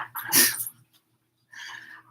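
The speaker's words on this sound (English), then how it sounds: "Oh boy, and the dog's gonna get nuts." An agitated dog acting up indoors during a yoga session, giving a sharp snort or whimper-like burst followed after a pause by a second, softer whining sound, close by.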